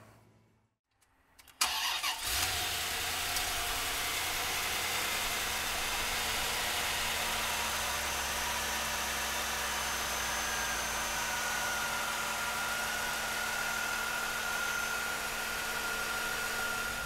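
A 1993 Chevrolet Corvette with the LT1 engine cranks and catches after a brief quiet moment, then settles into a steady, loud idle that holds evenly for the rest of the clip with no talking.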